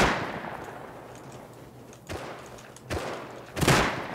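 Several gunshots fire in the survival game Rust, sharp distant cracks spaced irregularly over a steady ambient hiss, the last burst louder and closer.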